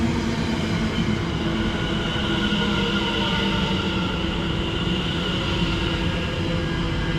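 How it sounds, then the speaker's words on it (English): An Ipswich service train, unit 720536, pulls into a station in Essex with a loud, continuous rumble and hum that holds steady throughout, with no talking. "Final train to finish off is an Ipswich service"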